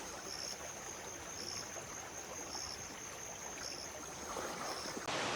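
A river in the hills of Uttarakhand flows near a small check dam, a constant broadband rush of water, steady and fairly close, with no voices.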